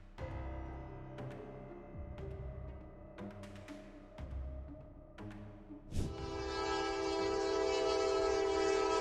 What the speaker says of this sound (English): a Norfolk Southern freight train came